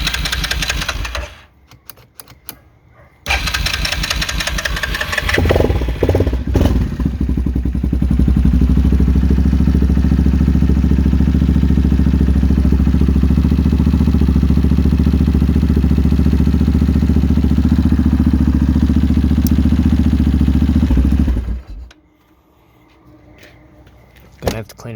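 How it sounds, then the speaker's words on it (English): A seized Yamaha Kodiak ATV engine cranking over, a loud steady labouring mechanical drone with clattering knocks running for about fifteen seconds after a couple of short bursts, then cutting off. "And let's listen to that seized engine."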